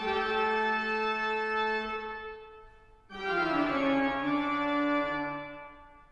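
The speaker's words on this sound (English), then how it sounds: "let me play you a piece of music that will describe the only organ sound that I've ever heard on a digital keyboard" Full plenum registration on a digital keyboard organ, sustained rich chords with many bright harmonics, loud and steady, with a brief dip before a new chord swells in at full volume.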